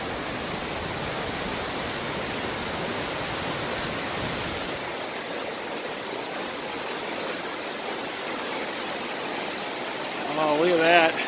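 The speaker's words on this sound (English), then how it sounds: "This is a powerful river." A powerful river rushes with a broad, continuous roar heard up close along the Appalachian Trail, easing slightly midway, with a brief voice near the end.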